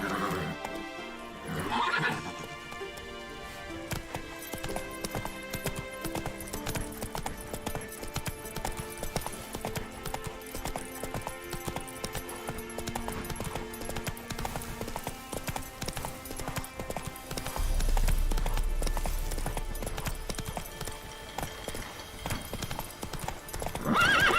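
Roach the horse in The Witcher 3 gallops with rapid, continuous clip-clop hoofbeats under a game music score, with a whinny near the start and a louder surge of hooves later on.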